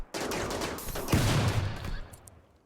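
Dense gunfire as colonists shoot at pirates during a raid on a pirate base in the Rimworld video game, with rapid overlapping shots that swell into a heavier burst midway, loud and continuous with no talk.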